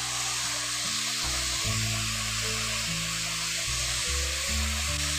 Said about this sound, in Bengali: এখন বাঁধাকপি আলু একসঙ্গে দিয়ে এখন ভালো করে একটু কষিয়ে নিচ্ছি বাঁধাকপিগুলোকে